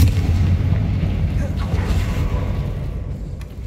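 Fire spell explosion in the Hogwarts Legacy video game, a loud sustained low rumbling boom that rolls on for several seconds before tailing off, with game sounds and faint voices under it.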